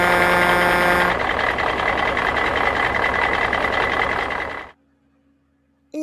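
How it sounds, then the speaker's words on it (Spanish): A truck reversing, its diesel engine rumbling under a steady series of rapid electronic reversing beeps, loud and close, cutting off abruptly near the end. "El camión."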